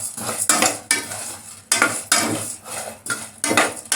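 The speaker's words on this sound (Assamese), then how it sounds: "অলপ ভাজি ল'ব লাগিব প্ৰথমতে" Food for Assamese home-style cooking goes into a hot pan, with rhythmic metal spatula scrapes and clanks over a soft sizzle, about half a dozen stirring strokes in quick succession.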